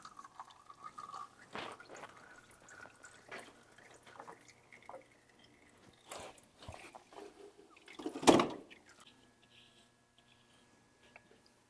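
Sparse drips of oil falling from a Kubota L6060 tractor into a drain pan during a 400-hour service, irregular soft taps with one louder splash, faint and quiet.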